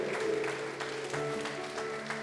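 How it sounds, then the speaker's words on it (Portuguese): A church congregation claps steadily during an afternoon service, a soft, even patter of many hands over sustained instrumental music. "Você pode aplaudir o Senhor? Vamos lá, faça isso com alegria."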